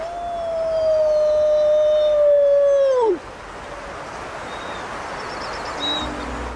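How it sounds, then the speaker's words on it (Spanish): A wolf howls alone in one long, loud, sustained note that slides down and ends after about three seconds, followed by quiet ambience with a faint distant cry. "está buscando desesperada a Cherokee, pero sus aullidos no obtienen respuesta"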